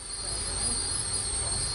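The steam locomotive Earlstoke Manor gives a steady high-pitched squeal at a steam gala on the Severn Valley Railway, a continuous whine over a low rumbling background.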